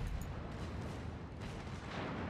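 Warship main battery guns firing during a naval battle in World of Warships, a dense continuous rumble of overlapping booms at steady loudness with no clear gaps and no talk.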